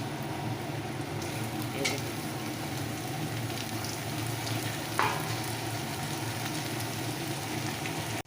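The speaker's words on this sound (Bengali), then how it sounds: "আলু আর পেঁয়াজ একসাথে ভাজা হচ্ছে" Potatoes and onions fry together in a pan with a steady, close sizzle and occasional stirring scrapes, with no talking.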